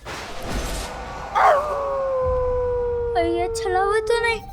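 A dog howls in a long, sliding, sustained wail, joined near the end by a second wavering howl, heard loudly over a low background rumble.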